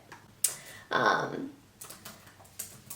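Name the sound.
typing on a computer keyboard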